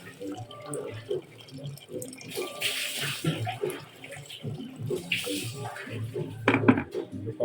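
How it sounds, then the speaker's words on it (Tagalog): Water poured into a cooking pot on a home stove, splashing and clattering with metallic knocks of pot and utensils in short bursts, while a person talks over the kitchen sounds. "Lagyan natin ng konting tubig"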